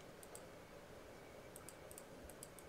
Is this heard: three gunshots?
no